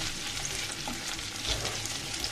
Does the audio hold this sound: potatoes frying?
yes